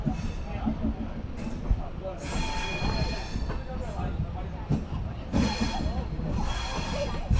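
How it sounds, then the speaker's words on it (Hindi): A passenger train travels from Nagercoil to Trivandrum, giving a steady rolling rumble with rattling carriage noise and occasional squeals throughout, heard from on board at moderate level. "आइए अब हम सब इस ट्रेन यात्रा, जो कि शुरू होता है नागरकोइल से और जा पहुंचता है त्रिवेंद्रम तक, इस यात्रा का आनंद लेते हैं।"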